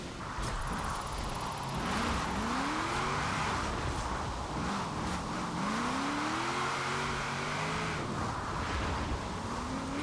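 A van converted into a drift car drives in Forza Horizon 4, its engine droning steadily with rising and falling pitch sweeps as it revs and shifts, loud and continuous throughout.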